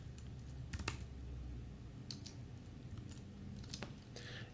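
Key presses on a computer keyboard while entering lyrics into Sibelius 6 notation software: a few scattered, fairly faint clicks over a steady low hum.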